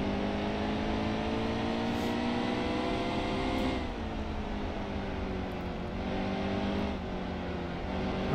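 A Cup race car in NASCAR Heat 2 at Bristol holds a steady, loud engine drone with layered harmonic whine. The pitch dips slightly around midway, then holds, with no talking.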